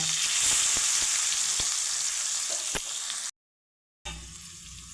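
Loud hissing sizzle of onions frying in oil with spluttering mustard seeds, a few sharp pops and clinks, cutting off briefly before the sizzling resumes.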